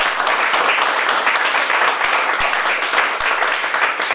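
Audience applause at a literary reading event, a dense, steady wash of clapping hands filling the room for about four seconds with no talk over it.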